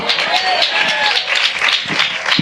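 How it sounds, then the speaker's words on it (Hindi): A church congregation claps together in a quick, busy patter, loud and close, with a voice rising over the clapping. "ताली तो ऐसे बजाते हो प्रचार बंद हो जाता है मेरा।"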